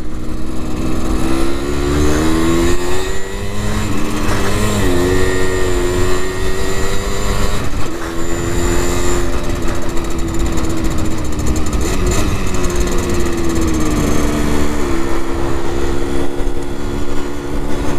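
A Simson S51 moped engine runs in first gear with a possible fault, a loud, steady buzzing two-stroke drone whose pitch rises and falls gently as it revs, close and unbroken throughout.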